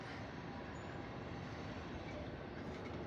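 A short Norfolk Southern freight train rolls steadily past a railroad crossing, giving a loud, continuous rumble of wheels and cars close by without a break.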